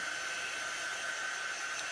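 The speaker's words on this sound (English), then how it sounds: "a regular everyday hair dryer works perfectly fine." Constant breathy whoosh of a hair dryer blowing steadily, even and uninterrupted throughout.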